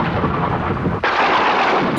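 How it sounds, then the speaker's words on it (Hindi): Cartoon storm thunder rumbles as a loud, continuous roar, broken by a brief dip before a fresh, brighter crash surges in and carries on to the end. "बादल भी गरज रहे हैं।"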